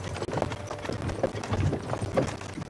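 Horses' hooves clopping in a steady plodding rhythm on a road in Kingdom Come: Deliverance II, moderately close with faint background ambience and no talking.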